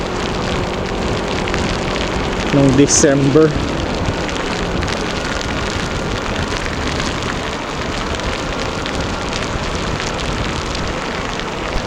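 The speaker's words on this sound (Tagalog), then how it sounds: "Malakas ang ulan." Heavy rain pours steadily throughout during a motorcycle ride, a dense, hissing wash, with a brief burst of talking partway through.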